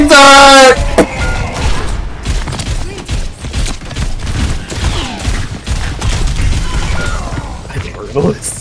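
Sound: level 3 turret firing in Overwatch video game

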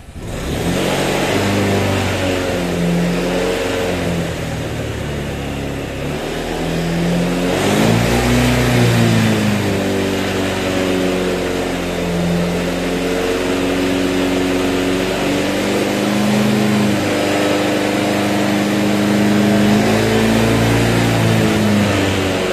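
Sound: motorcycle engine revving

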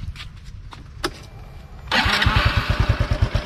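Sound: Honda Wave fuel-injected motorcycle engine starting

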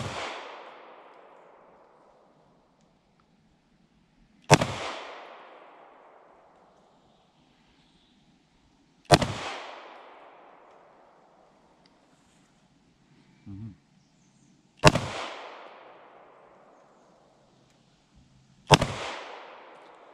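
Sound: guns firing

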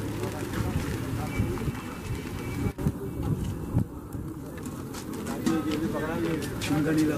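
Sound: pigeon cooing

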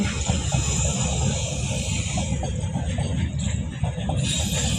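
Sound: freight train passing

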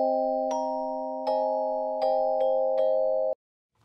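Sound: celesta played dry, no effect

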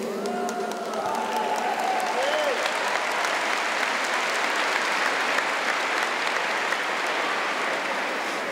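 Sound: audience applauding

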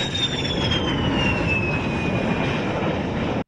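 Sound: Jordanian fighter jets flying overhead

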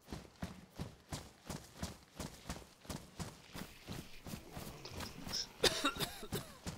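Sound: character coughing in the video game DayZ

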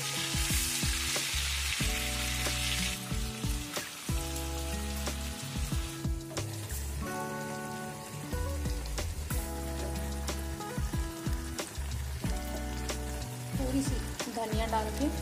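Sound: shallow frying fish in a pan

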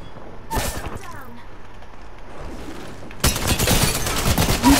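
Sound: gunfire from a video game

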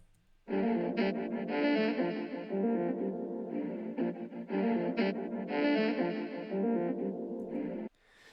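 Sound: saxophone-like loop played solo in a beat

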